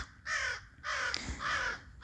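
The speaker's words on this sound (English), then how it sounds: "there is a group of crows nearby. I can't see them, but I can hear them." A group of crows caws in a forest, three harsh, drawn-out calls in quick succession, fairly clear though not right up close.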